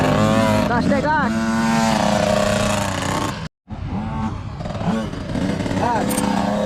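A 50cc motocross bike engine at practice, revving under throttle with rising and falling pitch sweeps, loud and close, with a voice talking over it and a brief dropout midway.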